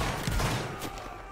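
A musket volley rings out in the Roblox Waterloo game, Spain versus USA, as a dense burst of crackling shots with a low thump over a short stretch of steady din.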